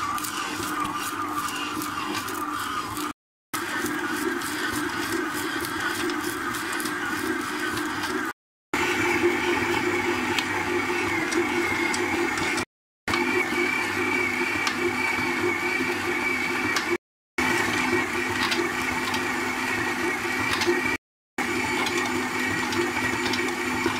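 A stand mixer kneads brioche dough after butter is added, a steady droning motor hum with faint rhythmic knocking, moderately quiet, repeating in long stretches broken by brief silent cuts.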